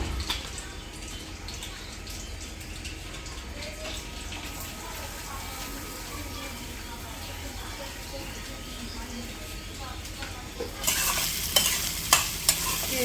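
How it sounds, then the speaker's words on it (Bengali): Tuna being fried and stirred in a pan for a cabbage dish, with a steady sizzle and scraping throughout, growing louder and harsher near the end, while a voice talks over it. "ভেজে নিই।"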